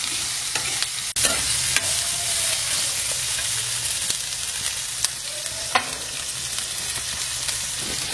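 Cinnamon and cloves fry in a pan with a steady, close sizzle, punctuated by occasional stirring clicks and scrapes of a utensil against the metal.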